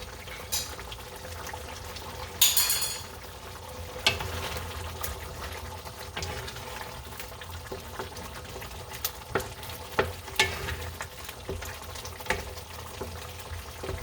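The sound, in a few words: stirring Wendy's-style chili in a pot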